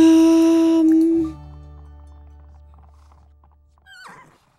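In a horse video game, a horse lets out a loud, close whinny that fades into a low sustained tone, followed by a short quieter neigh-like call near the end, with no talking.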